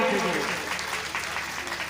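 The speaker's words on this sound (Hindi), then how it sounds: "तालियां बजती जानी चाहिए" Audience applause at a public health awareness event honouring a Lok Sabha member of parliament, a brief dense burst of clapping with voices audible under it.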